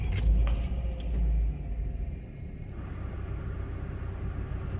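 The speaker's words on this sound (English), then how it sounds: "let's start the car so you guys can actually hear the AC and the fan" Keys jangle, then a car engine starts and settles into a steady low idle, with the air conditioning and a fan running as a constant broadband rumble and hiss inside the vehicle.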